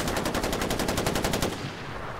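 Rapid automatic gunfire in the video game Far Cry 4, a loud dense burst of evenly spaced shots that stops abruptly after about a second and a half.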